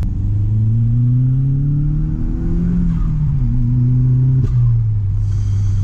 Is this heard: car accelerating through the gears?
yes